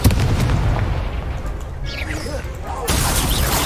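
Confringo blasting spell going off in the Hogwarts Legacy video game: a loud booming blast that starts the clip, a dense rumbling crash that fades midway, then a second burst of explosive noise near the end.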